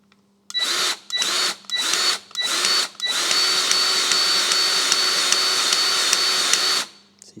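A powered pump or compressor drives the piston out of a Maserati brake caliper during restoration, running in four short loud pulses and then in one sustained whining burst of several seconds before cutting off.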